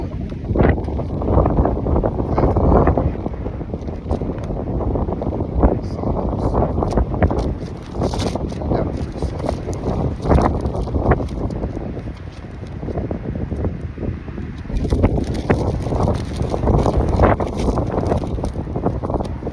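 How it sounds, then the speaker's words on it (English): Strong wind gusting outdoors at a camp, a loud continuous roar buffeting the microphone with rising and falling surges throughout. "That wind picked up."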